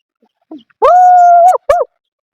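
A person's voice imitates a big dog's bark: a short gruff lead-in, then a loud, drawn-out howling bark and a brief final yelp, close and clear with no other sound.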